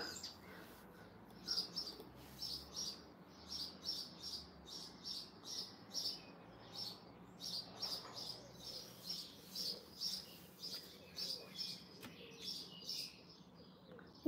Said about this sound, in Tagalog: Maingay pa rin yung mga ibon.